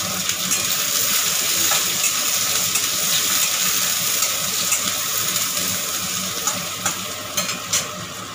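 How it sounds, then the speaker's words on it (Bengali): Finely chopped onion sizzles loudly in hot oil in a pan while being stirred, a dense continuous frying hiss with occasional spatula scrapes, close and unbroken. "একটা পেঁয়াজ কুচি কুচি করে কেটে নিয়েছি, পেঁয়াজটাকেও আমি দিয়ে দিলাম।"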